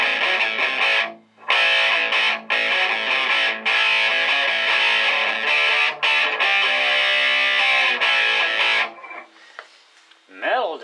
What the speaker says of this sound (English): Turbo distortion.